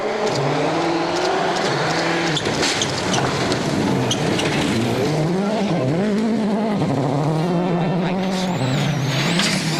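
A WRC rally car at Rally Japan 2010 powers through sweeping corners, its engine loud and continuous with rising and falling revs as it shifts through gears, close and steady for the whole stretch.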